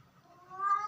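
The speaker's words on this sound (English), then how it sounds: "my cat is making noise again" A pet cat gives one short, rising meow, faint at first and swelling toward the end.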